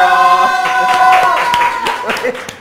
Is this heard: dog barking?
no